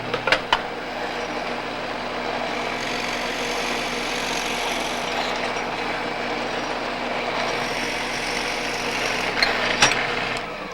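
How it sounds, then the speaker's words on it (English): Shopsmith Mark V woodworking machine runs steadily throughout, a continuous mechanical whir and hum with a few brief knocks near the start and end, fairly loud and without talk. "this machine also lets you bore workpieces of unlimited length with exceptional precision and ease"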